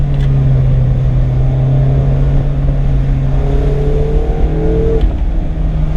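2019 Mazda MX-5 Miata RF with six-speed manual, engine droning loud and steady from inside the cabin, pitch slowly climbing under acceleration, no talk.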